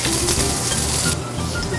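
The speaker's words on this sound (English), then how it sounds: "We're going to give the Brussels sprouts a small sear. You want to try and get it cut side down in the pan." Brussels sprouts seared cut side down in a hot restaurant pan give a loud, steady broadband sizzle that drops noticeably in intensity partway through.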